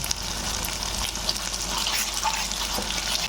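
Spice paste with salt sautés in a pan, giving a dense, continuous sizzling hiss with faint stirring scrapes, close and steady throughout.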